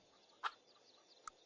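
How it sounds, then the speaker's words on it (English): A chicken in the video game Tiny Thief gives two short, faint clucks, one brief squawk followed by a sharper, quicker peep after a pause, over quiet background. "And then we can also free the chicken."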